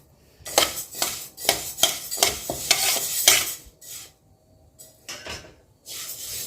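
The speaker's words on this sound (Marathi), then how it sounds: "आता बाजरी पण भाजून घेऊया दोन मिनिट" Pearl millet being dry-roasted in a pan over medium heat, a series of loud scraping and rattling strokes as the grains are stirred, with short pauses and a few sharper clinks of utensil on metal.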